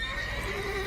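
A horse whinnies in The Witcher 3, a single short, close, high neigh with a wavering pitch over a soft in-game background, no talking.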